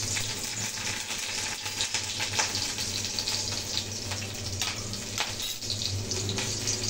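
Green chilies and black cumin fry in hot oil for a Bengali hilsa curry, giving a steady, fairly loud broadband sizzle with crackling spits and a few sharper pops, with no talking over it.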